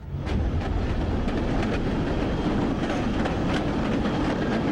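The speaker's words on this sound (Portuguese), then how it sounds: "E então o trem partiu." A train pulls away on a Holocaust-era deportation, its wagons rattling with a steady, dense clatter of wheels over rail joints, loud and continuous with faint rhythmic clicks and no voices.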